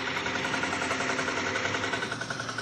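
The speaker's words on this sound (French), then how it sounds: "C'est les tracteurs de Cazes." A farm tractor engine built in Vierzon runs steadily in the background, a dense continuous mechanical drone with a faint rhythmic knock and no pauses across the whole stretch.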